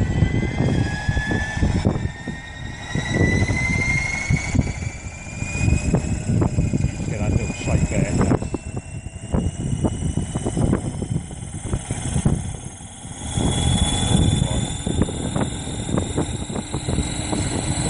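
Align T-Rex 600 radio-controlled helicopter with Airwolf-style body spooling up and gently lifting off, its rotor and motor whine rising and holding loud and close in choppy pulses. Someone talks over the noise.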